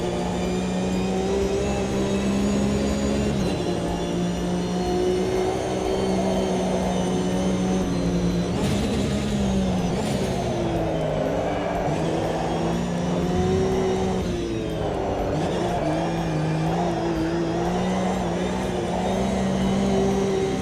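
Race car engine in the AMS2 racing game held under heavy throttle, a loud continuous drone whose pitch rises and dips with gear changes and lifts over about twenty seconds, with no one talking.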